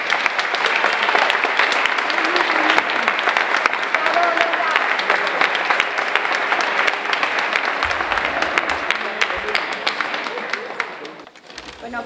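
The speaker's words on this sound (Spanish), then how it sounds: "Un aplauso muy fuerte para Lola." An audience at a book presentation for "Flores entre escombros" gives Lola sustained, dense applause that holds steady for about ten seconds before fading, with a few voices mixed in.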